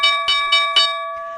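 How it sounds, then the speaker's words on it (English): Stock market closing bell ringing on a trading floor: four quick, loud metallic strikes in a steady rhythm, each leaving a bright sustained ring that fades out alone. "There is the closing bell."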